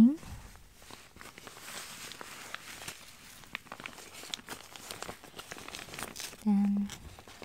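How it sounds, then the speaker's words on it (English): Soft fabric rustling and crinkling as a jacket with mesh lining is handled up close, with scattered light rubbing and shuffling sounds throughout. "Inside, there's a mesh material"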